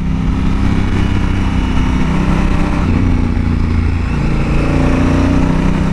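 Honda Africa Twin motorcycle engine droning loud and steady while riding, a constant low rumble mixed with wind noise and no talk.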